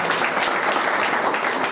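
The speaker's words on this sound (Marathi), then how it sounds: "जोरदार टाळ्या झाल्या पाहिजे." Audience clapping at a live poetry and music gathering in Pune, a dense, even burst of applause from a crowd, close and fairly loud throughout.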